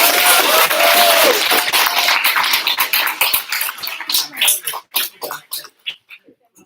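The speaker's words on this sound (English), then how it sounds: "Give him one more round of applause." An audience at a school awards day ceremony applauds, a dense burst of clapping that thins out into scattered, fading claps.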